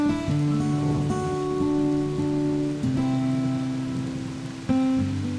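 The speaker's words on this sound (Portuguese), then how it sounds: "E a chuva esperada cai forte, marcando o início do período mais úmido." Heavy rain pours steadily in a Brazilian ecological reserve at the start of the wet season, a dense hiss overlaid by sustained tonal notes.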